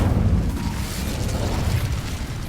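A fire spell cast in the Hogwarts Legacy video game lets out a loud, sustained whooshing roar with a deep rumbling boom, steady for about two and a half seconds and heard without any talk over it.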